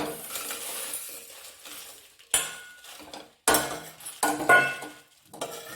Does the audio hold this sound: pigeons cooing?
no